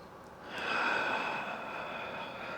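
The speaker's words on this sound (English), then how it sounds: "Breathe deep." A single long, deep breath drawn and slowly released during a hatha yoga pose, steady and airy, close and alone with no talking.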